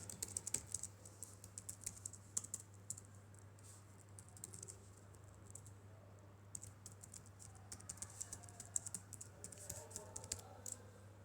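Steady light typing on a laptop keyboard, quick soft key clicks in uneven bursts, close and quiet over a low electrical hum, with no talking.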